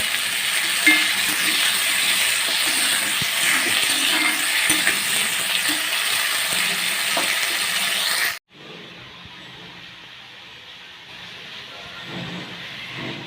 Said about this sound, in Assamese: এইখিনি ভাজি ল'লোঁ, গ্ৰীণ মটৰ আৰু আলু